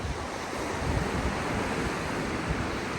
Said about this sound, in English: then waves are rolling in quite hard